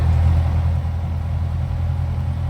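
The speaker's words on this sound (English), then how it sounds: "The engine needs a little more prime. This time it started." A Cessna 172 engine in the X-Plane 11 flight simulator runs steadily just after starting, a loud, even low rumble with a constant hum and no pauses.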